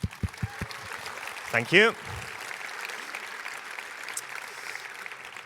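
Audience applause and cheering at JuliaCon, a programming conference, greeting thanks to the event's sponsors: a steady broadband clatter of clapping fills the room, with a speaker's brief voice rising over it near the start.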